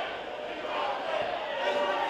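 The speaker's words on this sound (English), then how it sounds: "Listen to this crowd for this opener." Crowd at a WSW Australian Championship wrestling event in Sydney, a sustained roar of cheering and shouting that swells slightly, with a commentator talking over it.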